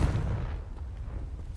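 A Confringo blasting spell explodes in Hogwarts Legacy, giving a short, muffled boom that rumbles low and fades quickly.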